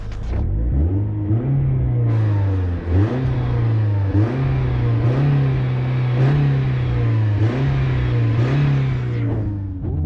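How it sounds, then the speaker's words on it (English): A petrol Mercedes-Benz W203 C180 engine rumbles loudly close by, heard from the rear, revving up and easing off in repeated cycles over a steady low idle. "Let's show you the engine sound from the back."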